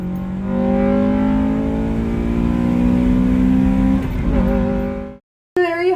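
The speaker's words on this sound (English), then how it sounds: "you have your signature VTEC takeoff sound" A Honda VTEC engine revs hard and climbs in pitch as it accelerates, loud and close, then cuts off abruptly before a brief higher whine.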